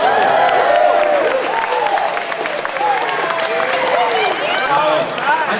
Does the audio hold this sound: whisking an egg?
no